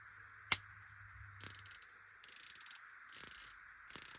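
Locking turrets on a Monstrum Hornet 4-16x50 first focal plane rifle scope with a zero stop give close, crisp bursts of rapid mechanical clicks in several separate runs, preceded by a single sharp snap.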